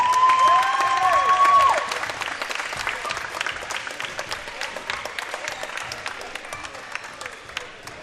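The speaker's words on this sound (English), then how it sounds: "Ask everyone to stand up and give both teams a round of applause." A crowd at a girls' school championship game applauds both teams, a dense sustained wash of clapping that holds steady and slowly thins out, preceded by a brief tonal ring.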